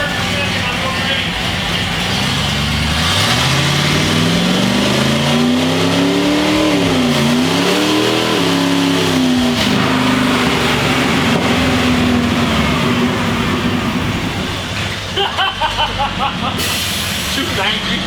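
A nitrous-equipped Ford F-150 pulls hard through first and second gear, its loud engine note climbing, dipping at the shift, then climbing again over a steady hiss, with a faint voice underneath.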